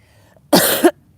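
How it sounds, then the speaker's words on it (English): A single harsh, loud cough burst lasting under half a second, close by, followed by quiet. "That's intense coughing right there"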